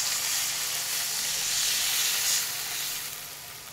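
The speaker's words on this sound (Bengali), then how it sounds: "এরপর এটায় জল দিয়ে দেবো।" Hot masala oil sizzles steadily in a pan, with a continuous bright hiss and crackle that swells and then eases off. No voices are heard.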